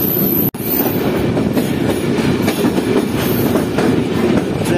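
A passenger train on the Karachi to Lahore line rolls into a station platform, a loud, steady rumble of wheels with faint rhythmic clacking throughout and no voices.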